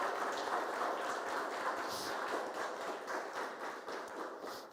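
A church congregation applauds during a worship service, a dense, steady wash of many hands clapping together that stays fairly distant and even throughout, with no voices over it.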